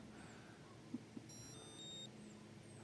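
A Sequre S99 soldering iron plays a short electronic beep tune of a few rising tones, faint over a low background hum, with a couple of small clicks before it.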